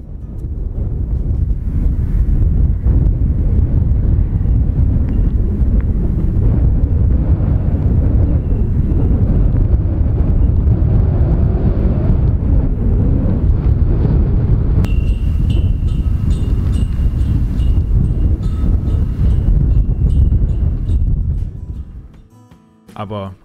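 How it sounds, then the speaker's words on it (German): Strong wind at the Arctic Circle Center in Norway roars steadily into the microphone for about twenty seconds, a dense, continuous buffeting that drops away abruptly at the end. "Bisschen windig hier, würde ich sagen."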